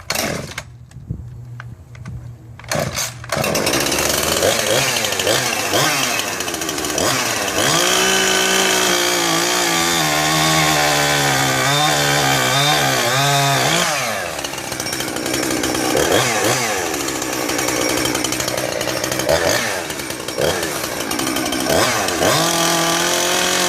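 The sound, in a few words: ported chainsaw engine running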